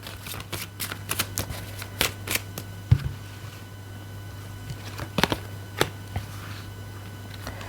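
Tarot cards being shuffled by hand, a series of quick riffling flutters and soft slaps in irregular bursts, close and fairly quiet, with one sharper knock partway through.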